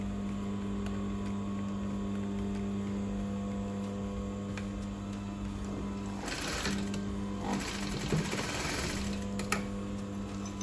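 A sewing machine stitches elastic onto a dress: a steady motor whir over a low electrical hum, with a louder burst of rapid stitching toward the end.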